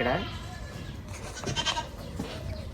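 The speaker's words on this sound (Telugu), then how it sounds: "మేకలు ఉంటాయి కదా పిల్లలు, ప్రతిరోజు పొద్దున్న సాయంత్రం పాలు అయితే ఇవ్వాలన్నమాట" Goats bleat in wavering calls in a garden in Dubai, one clear bleat at the start and others further back, mixed with speech and farmyard noise.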